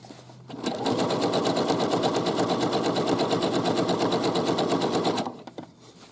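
A sewing machine zigzag-stitches a side seam, running fast in one steady, loud, rapid whir for about four and a half seconds, then stopping, with no talking.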